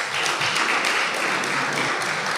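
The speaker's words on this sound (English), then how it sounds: "that also needs a round of applause" Steady, dense applause from a school audience at a Combermere School assembly, a continuous wash of many hands clapping at even loudness throughout, with no voices standing out.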